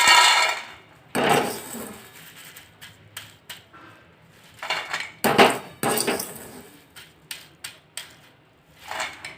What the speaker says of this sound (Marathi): हे भाजून झाले तर आता प्लेटमध्ये काढून घेऊ